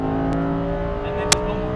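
Lamborghini Huracan Performante accelerating on a race track, a steady, loud engine drone from inside the car with rising harmonic tones and a sharp click near the end.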